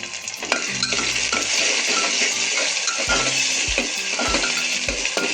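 Sliced onions fry in hot oil for a rustic Maharashtrian mutton curry, a close, steady sizzle broken by repeated scraping strokes of a spoon stirring against the pan.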